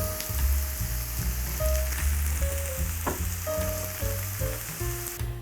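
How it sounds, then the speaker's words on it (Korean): A potato pancake made from new-season potatoes fries in a pan of oil, giving a loud, steady close-up sizzle with crackling pops and a few clinks of utensils, and no voices. "이렇게 자글자글 기름에 이렇게 구워줘야 돼요."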